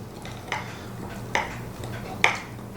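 A spoon knocks and scrapes in a container while flour and filtered water are mixed into a sourdough starter, three distinct clinks spaced about a second apart over a low steady hum.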